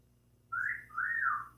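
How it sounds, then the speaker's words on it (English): Two short wolf-whistle phrases in a vintage radio comedy broadcast, the second longer and rising then falling, clear against a quiet background hum. "And stop whistling at her."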